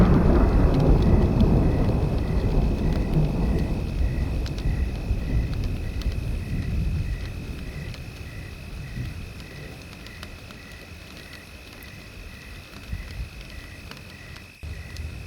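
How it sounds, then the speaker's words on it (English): A night thunderstorm with rain, a deep rolling rumble of thunder that fades over several seconds into steady, softer rainfall. "A night storm has arrived."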